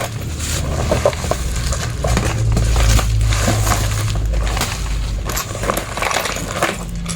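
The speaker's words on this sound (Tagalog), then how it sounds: "Pakinig ko pa lang talaga naglalaglaga na yung mga basag talaga siya." Broken glass shards shifting and rattling inside a poorly wrapped, damaged parcel, a continuous crunching, clinking jumble heard close and fairly loud with a low hum underneath.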